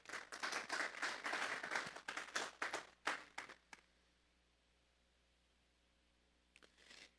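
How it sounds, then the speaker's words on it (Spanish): A congregation at a Sunday morning church service applauds in sharp, crisp bursts of claps for a few seconds, then the clapping breaks off into a near-silent room with only a couple of scattered claps near the end. "Vamos a darle otro aplauso al Señor."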